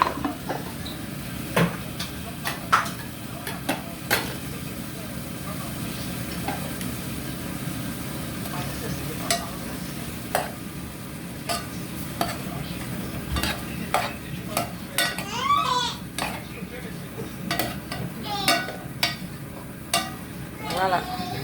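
Chopped leek fries in a pan with a continuous low sizzle, broken by many sharp clinks and scrapes of a utensil stirring against the pan, irregularly spaced and close.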